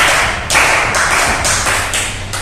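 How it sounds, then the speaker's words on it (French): A live audience applauds together in a dense, steady wash of hand claps, loud and close, with the intensity surging in waves as the crowd claps for itself. "Applaudissez pour vous maintenant"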